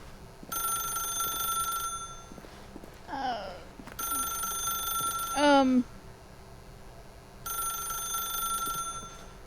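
A telephone rings in the video game The Stanley Parable, a bright electronic trill in three long bursts with pauses between, heard alongside brief voice-like sounds in the gaps.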